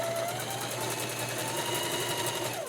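A sewing machine runs a stretch stitch along the folded edges of a nursing top, a continuous fast mechanical whirr with rapid rhythmic needle ticking, close and steady throughout.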